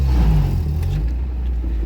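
A Mazda Miata engine revs low and throaty as the car pulls away in gear. The rev swells in the first second, then settles to a lower, fading rumble.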